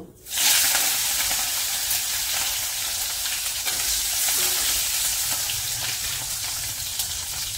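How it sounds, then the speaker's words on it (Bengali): Sliced bitter gourd drops into hot oil already tempered with whole cumin seeds and crackles into a loud, steady, hissing sizzle that holds for several seconds, close up and with no voices. "উচ্ছেটা ভেজে নেব।"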